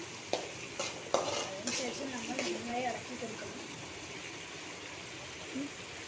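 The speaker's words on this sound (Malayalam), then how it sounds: "പിന്നെ അതിന് ഒന്നും കൂടി മിക്സ് ആക്കി കൊടുക്കണം." Tomato rice mixture stirred and sautéed in a pan brings a few scraping strokes over a soft sizzle, close by. A voice talks briefly, and the sound settles into quiet frying.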